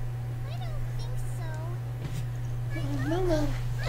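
Cat girl character in the video game HuniePop meowing, a voice imitating a cat with several short rising and falling mews over a steady low game hum, ending in a longer meow.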